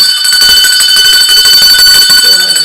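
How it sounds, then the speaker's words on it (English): Bell ringing continuously with a bright, sustained metallic tone that stays loud throughout, alongside muffled talk underneath. "Ring the bell. Ring the bell."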